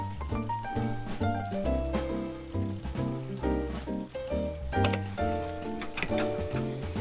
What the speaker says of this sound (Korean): 센 불로 한번 졸여주시면 돼요